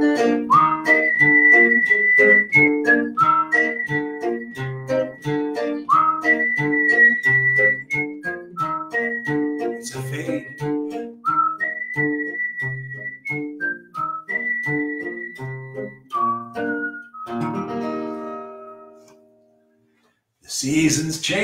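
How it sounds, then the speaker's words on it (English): A person whistles a lively melody alone, clear and close, with quick repeated notes and a few sustained tones, ending in a brief pause. "Whistle."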